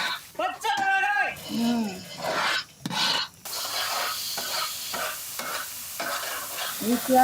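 A wide pan of curry with onion, curry leaves, ginger-garlic paste, tomato and green chili is stirred as it fries, giving scraping strokes and a loud sizzle; a voice speaks over the opening seconds.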